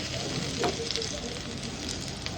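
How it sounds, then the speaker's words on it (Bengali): Pointed gourd (potol) slices frying slowly in an uncovered pan, giving a steady soft sizzle with faint scraping and a few small pops throughout. "এটা আপনি এভাবে আস্তে আস্তে ভাজতে থাকবেন"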